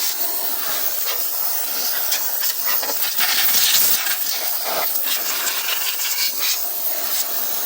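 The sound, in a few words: McGraw air compressor blowing out air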